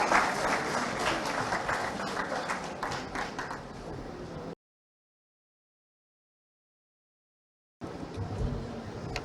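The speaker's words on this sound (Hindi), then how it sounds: "जोरदार तालियों के बीच स्वागत कीजिए श्री मनीष गुप्ता जी का।" An award ceremony audience applauds to welcome a speaker, a close, busy burst of many hands clapping that cuts off into silence, then resumes briefly at the end.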